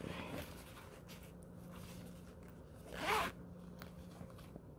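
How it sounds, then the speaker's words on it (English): A heated graphene jacket's pocket zipper pulled closed in one quick, close zip over a quiet room background. "Put the cable back in the pocket and zip it up."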